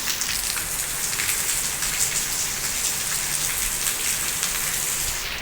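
Steady rain falls in a village, a dense, even, close patter of drops on surfaces that continues without a break and with no voices.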